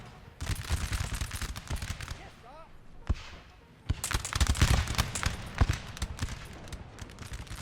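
Musket volleys crackle in bursts across a Napoleonic Total War 3 battle, sharp irregular shots near and far, with someone talking over the gunfire.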